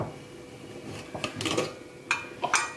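Pressure cooker lid being opened after the pressure has released, a few quiet metallic clinks and clatters of the pot and lid, close and fairly soft, with no talking.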